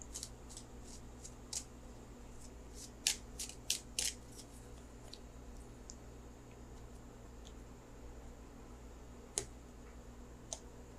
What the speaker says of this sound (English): So let me shuffle for the outcome card.